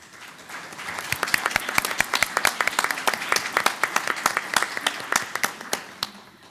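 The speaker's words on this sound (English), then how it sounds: "So you all deserve a round of applause." At a school board meeting, a small audience claps in sparse, distinct, fairly close hand claps that build into a brisk patter and then thin out, heard alone without talk.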